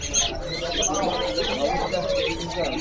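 Caged birds at an Indonesian bird seller's stall, with several chirps, tweets and cooing calls overlapping near and far throughout while people talk over them.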